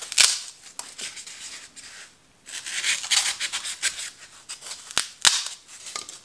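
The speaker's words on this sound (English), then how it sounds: "So I'll cut this off of the edge here." Scissors snip through a piece of craft material at its edge for a Dollar Tree Valentine's topiary, several sharp close cuts with rustling handling between them and a short pause in the middle.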